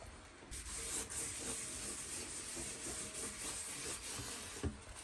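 Wallpaper being peeled from a wall with a steady, close rasping and tearing hiss, a few brief sharper rips near the start and end, and no talk over it.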